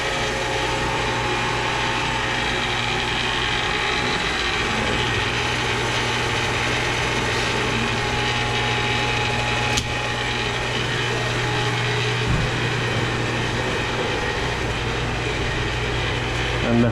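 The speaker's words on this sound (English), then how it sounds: "The booster pumps." Household water booster pumps run after the electricity comes back on, giving a constant close mechanical hum with a steady tone that carries on unchanged for the whole stretch.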